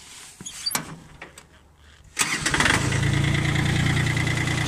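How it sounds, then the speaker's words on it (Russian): Some clunks and rattles, then a tractor engine with a Yanmar RSB1503 rotary tiller fitted cranks and catches with a sudden rise, settling into a steady, loud, rumbling idle. "Сейчас мы заведем трактор."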